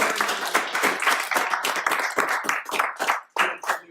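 A small audience at a lunch talk claps after the speaker, a close, brisk round of individual hand claps that tapers off near the end.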